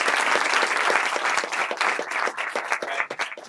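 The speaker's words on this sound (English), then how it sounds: "we'll give you 2 rounds of applause." Sustained applause from an audience at the close of a lecture session at an institute, dense steady clapping throughout with individual claps standing out, thinning slightly near the end.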